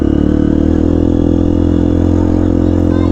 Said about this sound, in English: it sounds like an actual dirt bike